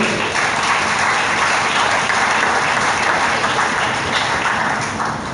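Steady, dense applause from a church congregation acclaiming the Lord, loud and continuous throughout with no speech.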